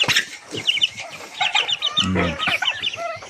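Chickens cluck and chatter close by, several birds overlapping in busy, uneven bursts, with a short low croak in the middle.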